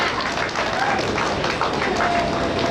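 Crowd noise rising at a youth bowling tournament as a cheer goes up from a distant lane, a steady broad roar of voices and clapping throughout, fairly far off and diffuse.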